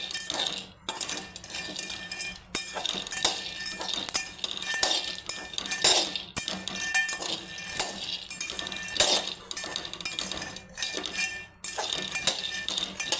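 Peanuts and garlic cloves are stirred while dry-roasting in a pan for peanut chutney, giving a steady, busy clinking and rattling of a utensil against metal that runs on without a break.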